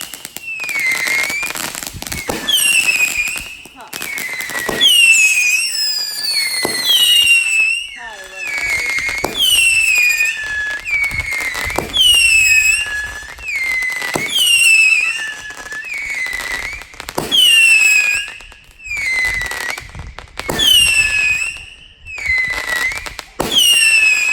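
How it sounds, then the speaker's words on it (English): A 3-stage whistle effect firework cake from Firehawk Fireworks, with repeated shrill rising whistles and sharp bursts in rapid succession for over twenty seconds, loud and close, under a person speaking. "This is a 3-stage whistle effect cake."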